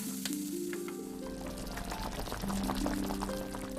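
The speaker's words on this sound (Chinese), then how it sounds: "先要把它油炸" Pork deep-frying in hot oil in a home-style kitchen, a bubbling sizzle with a faint pouring sound and sustained tonal hum from nearby equipment.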